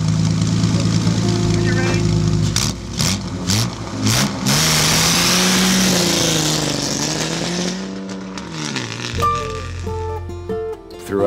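A 1950 Northland Special race car drives past, its engine revving and shifting pitch, loud and close, with rising and falling sweeps and a sharp tone near the end. A voice speaks over part of it.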